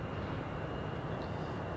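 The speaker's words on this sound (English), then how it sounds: "And the A340 is taxiing to the gate." An Airbus A340 airliner taxis at Zurich Airport, its jet engines producing a faint, steady, distant roar with no distinct events.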